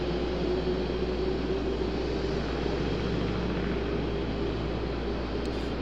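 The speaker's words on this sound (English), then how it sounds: "Beautiful sounding departure for that 777-200." A Boeing 777-200 departing the airport, bound for London Heathrow, gives a steady broadband engine roar with a low hum, held at constant loudness through the clip and heard alone with no voices.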